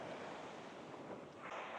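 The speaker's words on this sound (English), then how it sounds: "So the ocean," Ocean waves wash steadily onto a quiet beach in Bali, a continuous broad surf roar mixed with wind buffeting the microphone.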